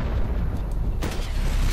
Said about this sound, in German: Nein, nicht schon wieder so ein Raketenwerfer.